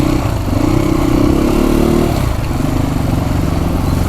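Motorcycle being ridden, a loud steady engine drone close by with a brief rise in pitch early on, continuous wind and road rumble throughout.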